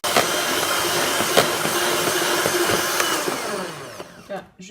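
An electric mixer whips egg whites with sugar for a tiramisu with Oreo, making a continuous, close, loud whirring drone that cuts off abruptly at the end.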